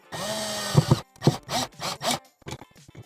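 Screws being tightened on an outdoor outlet cover, heard as a few short scraping, grinding bursts of a screwdriver biting into the fitting, close and fairly loud, with brief pauses between turns.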